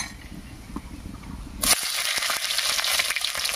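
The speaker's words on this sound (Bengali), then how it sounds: "এবার এর মধ্যে দেবো কাঁচা লঙ্কা।" Green chillies drop into a pan of hot mustard oil with cumin and bay leaf, triggering a sudden loud burst of sizzling that then holds as a steady close crackle with sharp pops.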